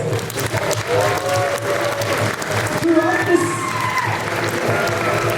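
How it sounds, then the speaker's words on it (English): Applause rises from the audience at a Samoan dance recital, a broad crowd clapping throughout, with voices and faint tonal sounds mixed in underneath. "another round of applause"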